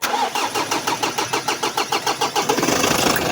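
A 2016 Mitsubishi Montero engine turns over with a steady rhythmic pulse before catching and settling into a running idle, loud and close with no talking.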